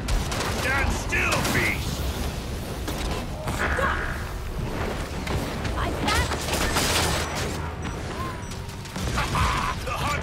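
Gunfire in the Evolve video game: rapid bursts of shots mixed with mechanical creaks and clanks, dense and continuous for about ten seconds.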